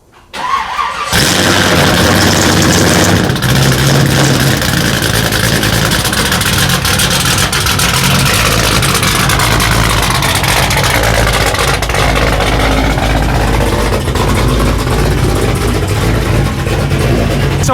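A Pontiac GTO with a straight-piped 3-inch exhaust fires up after a brief silence, then idles loud and close, with a steady deep rumble that wavers slightly over the full stretch.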